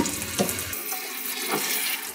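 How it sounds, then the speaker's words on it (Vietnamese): Soaked dried bamboo shoots are rinsed in a sink under steady running water, with continuous close splashing and gurgling throughout. "Rồi mình rửa sạch lại nha các bạn"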